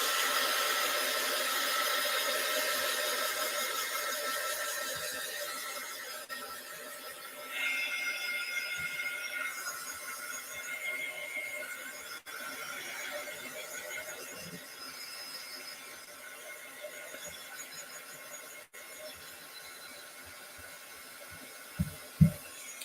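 A hair dryer blows steadily on a layer of modeling paste. The whir holds a constant close drone for over twenty seconds, briefly rising in pitch partway through, with a couple of soft knocks near the end.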